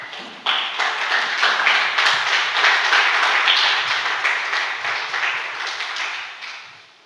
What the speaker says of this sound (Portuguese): Fica de pé e aplauda o nome do Senhor em nome de Jesus, bem forte.